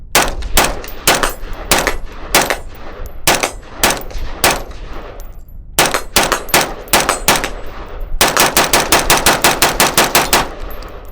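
An AR-15 rifle empties a complete magazine without a stoppage, sharp loud shots in uneven bursts before a fast unbroken string near the end, heard up close with no talking.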